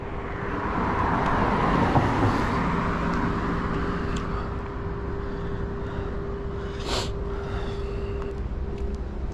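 An armed police car on blue lights drives past with a broad engine and road rumble that swells and then fades, a steady tonal hum running through it and a brief sharp noise near the end.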